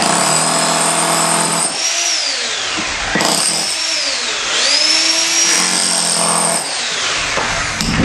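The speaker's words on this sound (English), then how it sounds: "So that's an electric breaker. This particular one is from DeWalt." A DeWalt electric breaker chiselling, its hammering motor whining loud and close in bursts that rise and fall in pitch as the load changes, with short pauses between runs.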